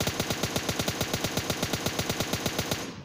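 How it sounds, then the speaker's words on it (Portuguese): Rapid automatic gunfire in a video game: a steady stream of roughly ten shots per second, loud and close, running continuously for about three seconds before abruptly stopping, with no voices. "Cara, é bem ruim de atirar aqui, as armas têm recoil."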